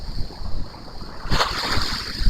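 Indian Ocean waves washing up on a black sand beach in Bali, a steady roar of surf with wind noise buffeting the microphone and a louder surge of water breaking close by partway through.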